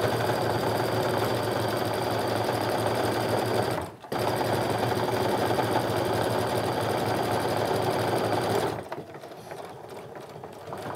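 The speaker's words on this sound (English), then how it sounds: "Then I'm gonna sew along until my needle is down in the first part of that seam allowance where the cork is." A sewing machine stitching a seam on a cork tote bag, running in a fast, steady mechanical whir that briefly halts once, resumes, then stops near the end, leaving quieter background noise.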